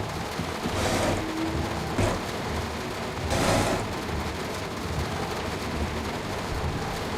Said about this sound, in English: And the rain's very loud as well.